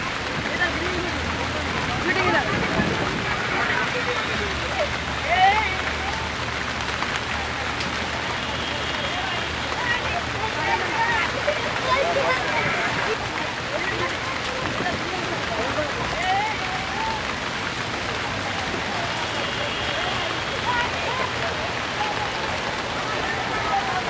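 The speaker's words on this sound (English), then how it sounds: "Soon it starts raining heavily." Heavy rain in Mumbai, a dense, steady hiss of downpour on surfaces that continues throughout, with faint background sounds.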